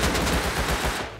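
Rapid gunfire in the survival game Rust, a dense burst of overlapping shots close by that stops abruptly near the end.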